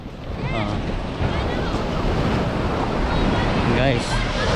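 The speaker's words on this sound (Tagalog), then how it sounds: "ang lakas ng alon guys" Strong ocean waves crash and surge in a loud, continuous roar with heavy wind buffeting the microphone; a voice speaks briefly over the surf.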